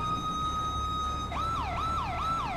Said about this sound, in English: why you leave your siren on